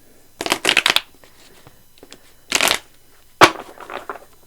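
Tarot cards being shuffled by hand in three separate bursts of crisp riffling and flapping, close and clear, with quiet pauses between each bout.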